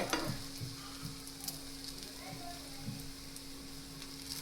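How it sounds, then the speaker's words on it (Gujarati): Green onion paratha roasts in oil on a hot griddle, giving a steady, soft sizzle with a few faint taps and scrapes over it. "તેલ લગાવતા જશું અને બંને બાજુ ક્રિસ્પી થાય ત્યાં સુધી આપણે તેને શેકી લઈશું"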